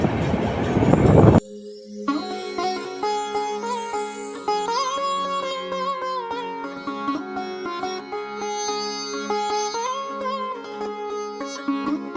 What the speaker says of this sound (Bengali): এই মুহূর্তে ট্রেনটি প্রবেশ করছে যমুনা সেতু পশ্চিম পাশে